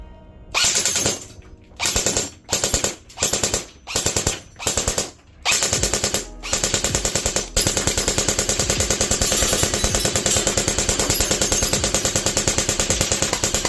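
An APS Silver Edge 2.0 Phantom Extremis airsoft gun fires several short bursts and then breaks into a long, loud, continuous fully automatic stream of rapid shots that runs to the end without any talking.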